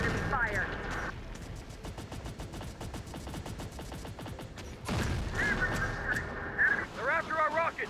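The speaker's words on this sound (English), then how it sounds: "Taking enemy fire." Enemy gunfire in Terminator Dark Fate Defiance, long rattling bursts of rapid automatic fire with a sharp crack near the five-second mark, mixed with game radio chatter and electronic bleeps.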